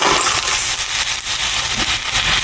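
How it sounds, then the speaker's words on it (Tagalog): Mussel shells clatter into a pot with sautéed onion, garlic and ginger over a steady background hiss, with a few sharp clicks scattered through the short moment. "Dalagyan na natin itong ating tahong."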